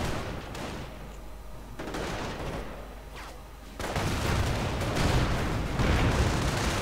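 Flak guns blasting away in the Company of Heroes battle game, with dense rumbling bursts of fire and explosions that swell louder partway through and keep going.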